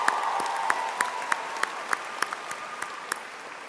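Sparse, evenly spaced claps at a Georgia Gwinnett College spring commencement ceremony ring out as a slow rhythmic clapping over a faint steady hum, rather than a full roaring ovation.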